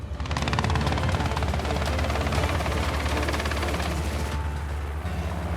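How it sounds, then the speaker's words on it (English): A helicopter hovering near the mouth of a giraffe boma during a South African wildlife capture operation, heard as a loud, continuous rapid rotor chop that fills the scene, close and constant. "I can hear the helicopter right at the mouth of the boma"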